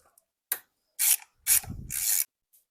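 A ratchet undoes a bolt on the power steering fluid reservoir of a BMW F01 750i with the N63 V8, in a few separate bursts of close clicking and rubbing with silent gaps between them.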